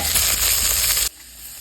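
Shallots, garlic, tomato, curry leaves and coriander frying in a pan for selavu rasam make a loud, close, steady sizzle that cuts off abruptly after about a second, leaving quiet background.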